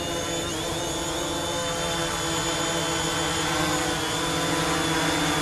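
A DJI Mavic Pro drone fitted with Master Airscrew propellers flies steadily nearby, giving a loud, continuous high-pitched whine and hum that holds throughout without pause.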